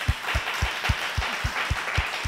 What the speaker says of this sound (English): So I want to go ahead and clap that up